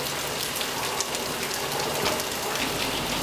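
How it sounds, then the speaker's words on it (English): Heavy rain pouring down outside while sheltering under an awning, a dense, steady hiss with no letup and no voices. "Now it's pouring outside"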